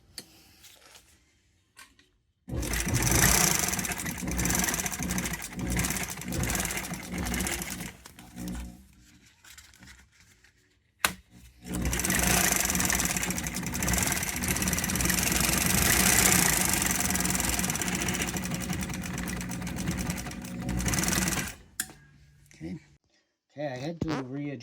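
A Juki LU-1508 industrial walking-foot sewing machine runs in two long stretches, a loud, steady mechanical whir and rattle with some knocking from the hook area, then stopping; short breaks come between the runs.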